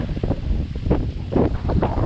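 Gusty wind blowing hard against the microphone in rural Philippine farmland, loud rumbling bursts that rise and fall unevenly, with no voices.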